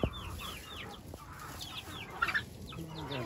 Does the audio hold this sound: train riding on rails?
no